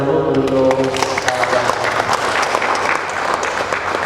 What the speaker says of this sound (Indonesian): kita beri tepuk tangan dulu untuk